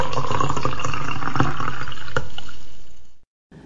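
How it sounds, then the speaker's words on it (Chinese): Water pours from a kettle in a continuous, close splashing stream that fades out and stops just before the end. "所以我用这个壶倒水，我正在倒水"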